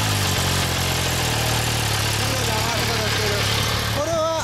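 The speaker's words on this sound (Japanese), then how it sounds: "エンジン音聞かせてもらえるかな。" A 2015 MV Agusta Brutale 800 Dragster RR motorcycle engine idles steadily with a low, constant rumble, while voices chat nearby over the running motor.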